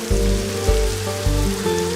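Steady rain pours down at night in a Hindi film scene, a continuous close hiss laid under a low sustained musical drone, with no one speaking.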